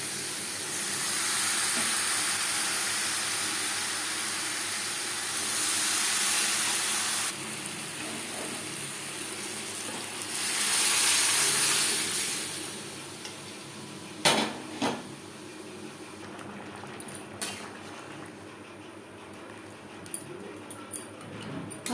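Potatoes, tomatoes and cooked mutton for aloo mutton curry sizzle in a pan as a steady, fairly loud hiss, with a few sharp utensil knocks near the end.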